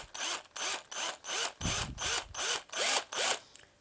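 Drill bit run in reverse pressing an eye socket into a wooden stick bait lure body; about nine short, evenly spaced whirring bursts, close and fairly quiet, with no talking.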